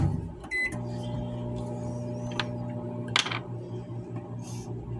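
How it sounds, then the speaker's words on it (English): A low steady hum of a microwave oven runs throughout, with a few faint clicks and taps over it. "Put it back in the microwave."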